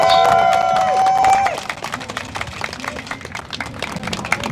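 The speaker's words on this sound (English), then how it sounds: "give yourself a round of applause" A protest march crowd on a Chicago expressway claps and cheers in a dense, continuous burst that thins out into scattered applause, with a voice heard briefly at the start.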